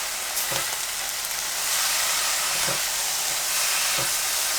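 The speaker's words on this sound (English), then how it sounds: "Give this a stir." Green beans frying in a pan with chili paste and garlic, a steady close sizzle and hiss with a few soft scrape-and-stir clunks of the utensil at intervals.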